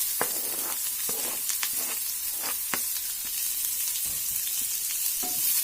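Finely chopped medium onion sizzles in smoking-hot oil on high heat with a constant loud hiss, close by, and sharp crackles and pops scattered through it, with no voices.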